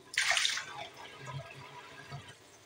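Water splashes briefly as a bird's water dish is rinsed out, a short burst of running and sloshing water at the start followed by faint dripping and light handling noises.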